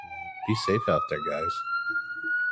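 An ambulance siren, the Medic One unit, passes outside with a steady, rising electronic wail that carries under someone talking close by.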